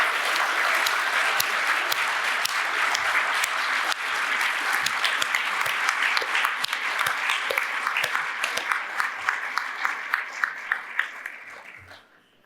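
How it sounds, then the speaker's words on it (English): A hall full of people applauds new fellows of an academy of social sciences at an induction ceremony, a dense, loud, sustained clapping that fades out near the end. "we all applaud the new fellows of the Academy of Social Sciences."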